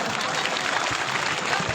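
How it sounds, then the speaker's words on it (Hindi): Crowd clapping at a police lines Independence Day ceremony, a brief continuous patter of many hands heard from a distance in an open outdoor setting. "और इनके लिए जोरदार तालियां।"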